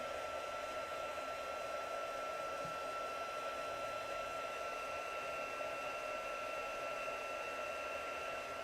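A heat tool blows steadily the whole time, warming a craft coating with a constant, even whoosh and whine and no breaks.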